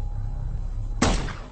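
A single sharp sniper rifle shot cracks out loud and close in an animated scene, a sudden blast after a low steady background hum, with a short decaying tail.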